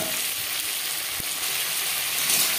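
Pointed gourd (potol) frying in oil in a pan, giving a steady, close sizzle with a soft crackle throughout and no talk.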